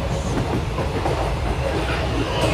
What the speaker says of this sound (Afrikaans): So hy is definitief 'n lang trein by my.